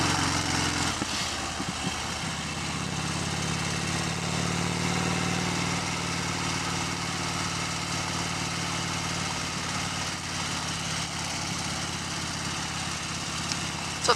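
A 2015 Harley-Davidson Fat Bob rides slowly, its engine a steady, continuous rumbling drone close by throughout, with no voices.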